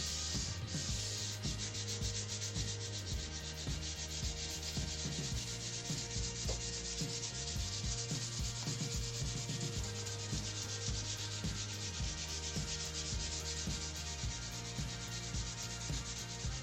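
Steady, continuous scratching of higher-grit sandpaper worked back and forth along a guitar neck during fretting, a close, even rasp that never pauses and has no voices over it.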